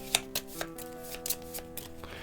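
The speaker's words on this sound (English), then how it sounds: "Take 7 creature cards, shuffle them, and place them face down in the creature space." Creature cards for the Storyfold: Wildwoods board game being shuffled by hand, a close run of crisp papery riffles and soft slaps, with a few sharper snaps standing out over a steady faint rustle.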